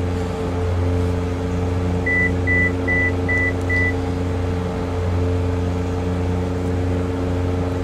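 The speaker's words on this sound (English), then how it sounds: "Now all that noise is telling me I've shut the autopilot off" A repeating electronic warning tone from the autopilot disconnect in Microsoft Flight Simulator X sounds five short, evenly spaced beeps over a steady droning aircraft engine hum, with no talking.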